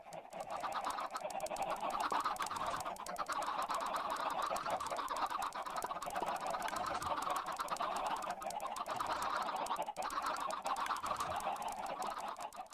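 Chickens in the Minecraft video game, heard as a steady run of clucking and squawking calls that stays loud and close throughout, with no talking over it.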